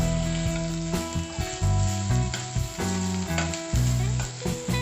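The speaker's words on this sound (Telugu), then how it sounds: "ఆనియన్స్ ఎక్కువగా వేయించుకోవాల్సిన అవసరం లేదు, జస్ట్ సాఫ్ట్గా కుక్ అయితే చాలు." Onions sizzling in hot oil in a pan while cooking semiya upma, a steady loud fry with bursts of crackling and stirring scrapes recurring every second or so, no voices.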